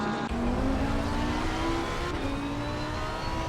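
GT3 race cars in Assetto Corsa Competizione at the Nürburgring roar without a break, their engine tones rising steadily as they accelerate, close and loud throughout with no gaps.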